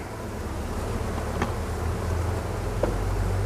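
Honeybees packed densely on the combs of an open hive, giving a steady, close insect hum that holds throughout with a couple of brief louder buzzes passing by.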